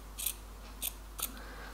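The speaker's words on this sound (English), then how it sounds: "we're going to cut it very close to this one without cutting through it" Scissors snip through a T-shirt three times in quick succession, each cut a short crisp close-up rasp over a quiet hum, with no talking.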